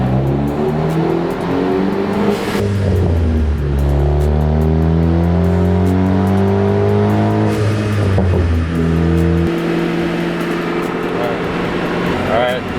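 A Ford Focus ST engine drones loudly and steadily under load during a 4th-gear tuning pull, its pitch shifting as the car accelerates, with people talking over the constant engine roar.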